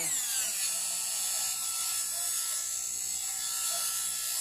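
Hair dryer blowing steadily on its middle setting, a loud continuous airy whine with no breaks and no talk.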